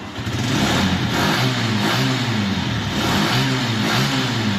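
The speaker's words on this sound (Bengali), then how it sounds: "বাইকটি সাউন্ড দেখুন বাইকের সাউন্ড" Second-hand blue TVS Metro Plus 110cc motorcycle engine running, a steady close mid-pitched drone with slight rhythmic wavering, loud and continuous with no talk over it.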